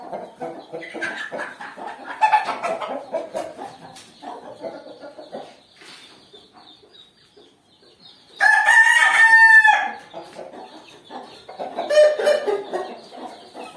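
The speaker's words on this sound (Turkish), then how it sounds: "birer birer tavuklarımızı tekrardan göstereceğiz" Hens cluck and murmur close by in a new coop, then a rooster crows loudly for a couple of seconds, followed by more clucking.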